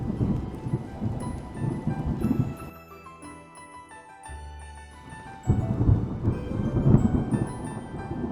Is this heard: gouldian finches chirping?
no